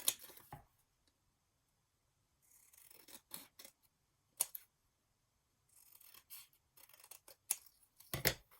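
Scissors trimming card paper: sharp, close snips and crisp slicing cuts, some single and some in quick clusters, separated by near silence.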